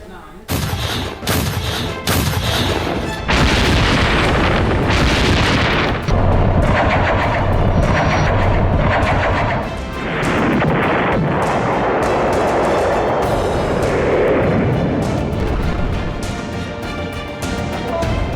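Russian and American heavy weapons fire in war footage, a dense run of close, loud artillery booms and gunshots that keep overlapping and rumbling without pause.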